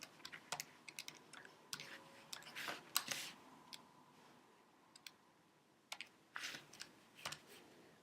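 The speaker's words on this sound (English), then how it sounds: "just click something wrong on the calculator" Calculator buttons clicked during a circular motion calculation, a quiet, irregular run of sharp plastic taps in small bursts with pauses between, close up in a still room.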